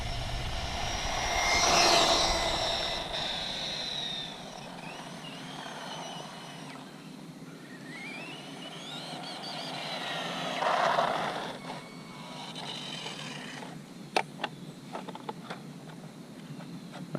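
A GPTOYS S916 RC car on a 3S LiPo battery runs at full speed, its high electric whine rising and falling as it passes close by twice, then fading into the distance, with a few sharp clicks near the end.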